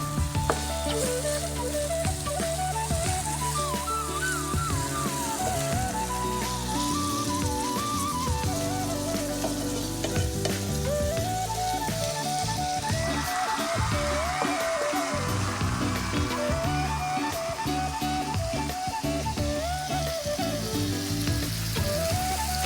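Green peas fry and are stirred in a pan for idly biryani, a steady close sizzle with intermittent scraping and stirring and no talk.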